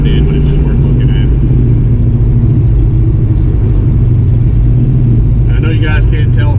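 Loud, sustained engine roar inside a car tuned with Holley Terminator X EFI under heavy throttle, droning steadily, with a brief voice at the start and end.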